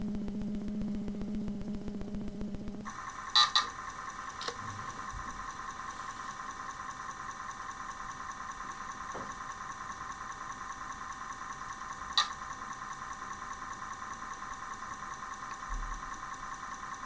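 Commodore 64 sound effects from Gee Bee Air Rally: a steady droning engine-like buzz of a racing plane, with a few sharp blips and short clicks over it, no music.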